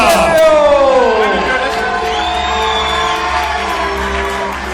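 A stadium crowd cheers with whoops and shouts for a national team's coach at a women's world cup final, a loud, sustained roar close by that fades slightly toward the end.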